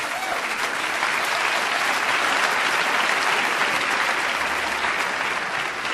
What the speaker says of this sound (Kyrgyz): кол чабуулар болсун